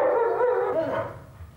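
A dog on a chain howls in one loud, drawn-out wavering cry that fades away after about a second, heard alone.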